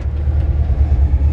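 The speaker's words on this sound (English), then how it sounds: "The idle's still a little high on it, just from it's still warming up." A 1962 Chevrolet C10 truck engine idles a little high while warming up, a steady, close, deep rumble that holds even throughout with no voices.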